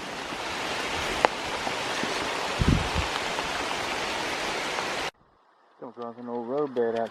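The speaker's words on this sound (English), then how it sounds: "This rain just keeps getting heavier and heavier." Heavy rain falling in a forest along a wildlife refuge pond trail in Mississippi, a dense, loud hiss that cuts off abruptly, followed by a person talking.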